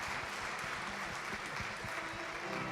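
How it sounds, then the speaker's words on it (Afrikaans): A live morning studio audience claps for a birthday, a dense, fairly faint patter of hands with a few sharper individual claps standing out near the front. "Kom ons gee vir hom 'n lekker hande klap."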